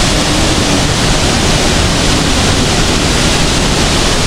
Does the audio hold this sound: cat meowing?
no